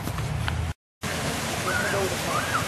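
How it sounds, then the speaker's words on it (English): A small natural waterfall in Petoskey, spilling out from under a road, gives a steady broadband rush of falling water, broken by a brief dropout, with faint high whistling tones above the flow. "So there is the waterfall in Petoskey. Comes right out from under the road."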